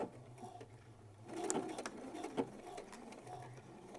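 A sewing machine stitches lace dress fabric with a faint, steady mechanical whir and light rhythmic clatter, quiet throughout with a few soft clicks.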